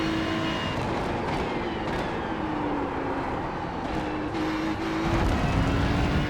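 A Ferrari 296 GT3 in iRacing at Road America drones in a steady, loud, close engine note, with pitch climbing and dropping through several upshifts and a harder surge near the end.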